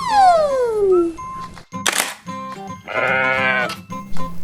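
A white ram with curled horns bleats loudly in a long wavering call at close range, followed by shorter bleats and some rustling handling sounds.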